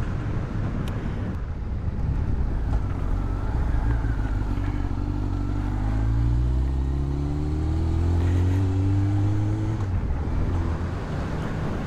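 Honda CBR1100XX Blackbird motorcycle engine running steadily while riding, a continuous loud drone with rising and falling tones as it accelerates, mixed with wind rush and no talking.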